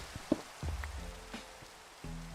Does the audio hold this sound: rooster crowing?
no